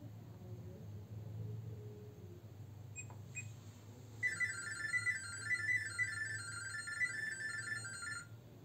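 An LG top-load washing machine in Smart Diagnosis mode gives a short beep, then a long rapid stream of warbling electronic data tones, steady and close, heard over a low hum with no talk.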